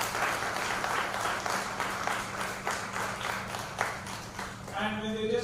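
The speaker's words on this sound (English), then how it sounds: "So the whole team of SuperTeacher deserves a big round of applause." A crowd at a Super School Leader event by SuperTeacher breaks into a sustained round of applause, dense steady clapping filling the room with a few voices mixed in near the end.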